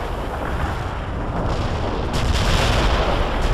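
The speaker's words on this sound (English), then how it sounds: "Main guns fired." Naval main guns and artillery firing in World in Conflict, a dense, continuous roar of heavy gunfire and blasts, loud and sustained with a brighter burst of reports in the second half.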